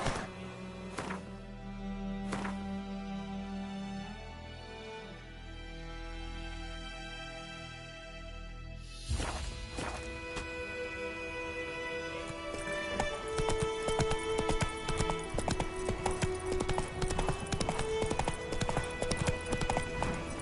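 Roach the horse gallops in The Witcher 3, a steady clip-clop of hooves at first with a whinny, then a dense, fast hoofbeat rhythm under swelling game music for the second half.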